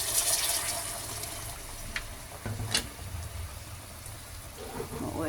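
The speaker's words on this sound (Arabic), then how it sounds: "واحط الميه المغليه تستوي" Boiling water poured into a cooking pot with onion and tomato, a soft steady gush and splash running throughout, with a louder splashy burst near the middle, moderately close.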